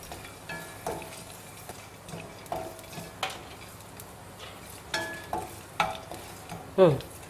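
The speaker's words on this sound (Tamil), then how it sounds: "சுண்டக்காய் வத்தல் மட்டும் கொஞ்சம் கருப்பு நிறம் ஆகணுங்க வறுக்கும்போது" Dried turkey berries frying in oil in a pan, a soft steady sizzle broken by repeated stirring scrapes and clinks, louder toward the end, with no talking.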